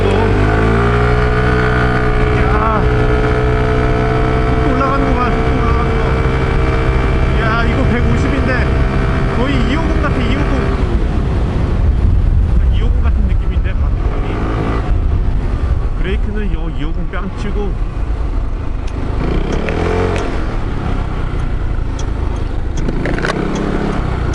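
A Kymco Racing S 150 ABS scooter engine roars loudly and close, revving and accelerating with rising pitch throughout, wind rushing over it.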